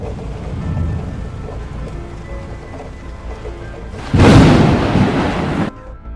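Steady rain patters throughout, then a loud rumble of thunder bursts in near the end and rolls on for over a second before fading.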